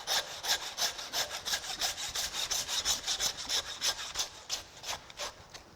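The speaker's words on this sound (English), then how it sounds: "with the handsaw, slice through the vertebrae between that 4th and 5th rib" Handsaw cutting through beef vertebrae bone between the 4th and 5th rib of a carcass, a rapid series of close, gritty rasping strokes in an even rhythm with no talking.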